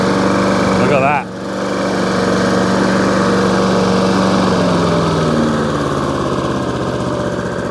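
A Hayter 48 lawn mower's small engine is restarted after a brief cutout, then runs loud and close, settling into a steady idle that gradually eases down.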